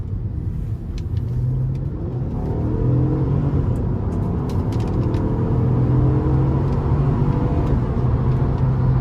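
A 2009 Honda Accord with a naturally aspirated V6 accelerates hard, its engine note rising into a loud, sustained drone and rumble heard from inside the cabin, with no talking.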